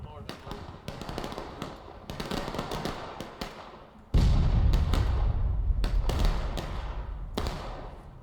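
Confederate artillery cannon fire in the Civil War game War of Rights: several sharp blasts and a heavy booming report, with continuous distant battlefield rumble throughout.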